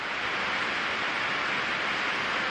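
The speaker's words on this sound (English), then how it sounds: "it's raining pretty hard outside" Heavy rain falls steadily outside, heard indoors as a dense, even hiss with no individual drops standing out, constant and moderately quiet throughout with no speech.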